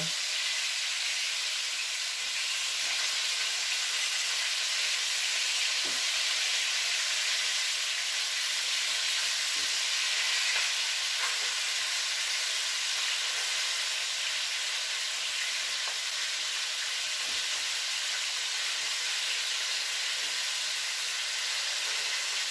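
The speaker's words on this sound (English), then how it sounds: "the sound of the frying has quieted a bit" Steady sizzling hiss of chicken frying in hot oil, continuous and even, with occasional faint pops and no talking.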